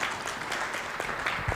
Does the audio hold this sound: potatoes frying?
no